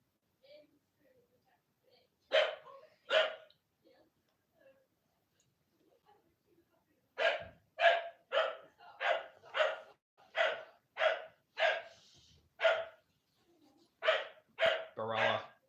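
A dog barks excitedly in a home during a live football watchalong stream, with two quick barks followed by a long rapid run of loud, close barks.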